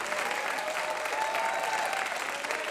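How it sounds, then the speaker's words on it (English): An audience at a live music show claps steadily for a group of young performers, a dense, even round of applause that holds for the whole stretch. "Give our WoodSongs kids a big round of applause"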